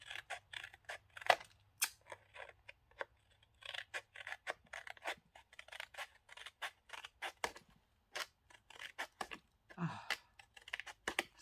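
Scissors snipping through thin napkin paper indoors, a series of crisp close cuts in an uneven rhythm with short pauses, fairly quiet and with no talking.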